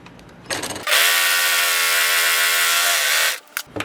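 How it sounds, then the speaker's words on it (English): Serger sewing machine running along fabric edges to trim excess seam allowance, a brief start-up then a loud, steady high-speed mechanical whir for about two and a half seconds, stopping with a few clicks. "I'm going to serge my edges and make sure I cut off the excess seam allowance."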